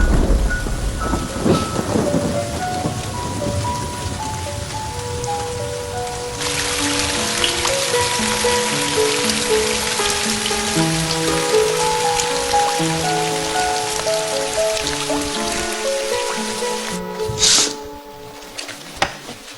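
Heavy rain pours steadily in a dramatic adventure film scene, with low rumbles of thunder rolling beneath the downpour, which swells louder partway through and holds at a dense, continuous roar.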